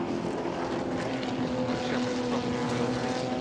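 A Ford Capri race car roars along the track near the Dunlop chicane at Le Mans Classic, its loud, dense engine note holding steady and close throughout.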